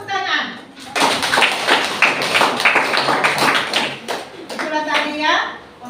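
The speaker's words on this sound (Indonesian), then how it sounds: "Bagus, tepuk tangan." A classroom group claps for a student's presentation, a short burst of hand clapping mixed with voices of a teacher and children speaking over it.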